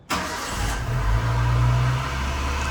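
A Suzuki Cultus Limited Edition car engine cranks and catches abruptly, then settles into a steady, close, fairly loud idle with a low hum, no voices over it.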